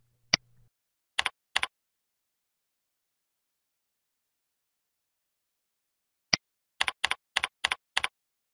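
Computer keyboard keys pressed while entering an IP address in Siemens TIA Portal: a lone click, a pair of taps, then after a long pause a quick run of about six crisp keystrokes, close and clear with silence between.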